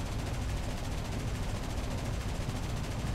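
Guns on a BV 238 flying boat firing in War Thunder, a continuous dense rattle of rapid automatic fire blended with heavy engine drone, steady and unbroken throughout.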